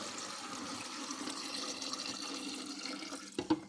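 Salt-water brine pours onto turnips for pickling with a close, steady splashing flow, then a brief louder splash near the end.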